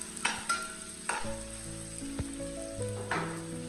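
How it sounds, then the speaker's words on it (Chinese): Ginger, garlic and bird's eye chilies stir-fried in a wok, with a soft steady sizzle and a few sharp spatula knocks and scrapes near the start, all under background music. "接下来把切好的姜蒜小米椒也倒在锅中，再次翻炒均匀"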